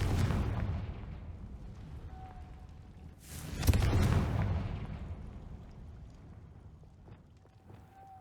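A Confringo fire spell bursts in Hogwarts Legacy as a sudden booming blast that rolls out and slowly fades, set against a low game ambience with faint tonal hums.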